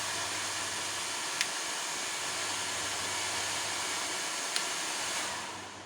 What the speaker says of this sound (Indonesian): di sini kipas atau fan sudah berfungsi dengan normal ya, karena suhu inverter naik di sini.